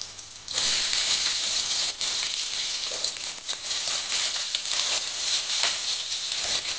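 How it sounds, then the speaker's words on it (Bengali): Potatoes fry in hot oil with dried red chillies and a bay leaf, a close, busy sizzle and crackle that starts abruptly and then keeps up steadily, with no one talking. "আলুগুলো একটু লাল করে ভেজে নেব।"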